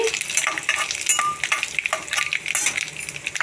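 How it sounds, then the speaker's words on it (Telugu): Cumin, mustard seeds and dried red chillies crackle in hot oil, a loud, close burst of popping and spitting with stirring clinks against the pan and no talk. "ఇదిగోండి జీలకర్ర ఆవాలు వేసుకోవాలి అలాగే ఎండుమిర్చి కూడా వేసుకోవాలి దోరగా వేగించాలి"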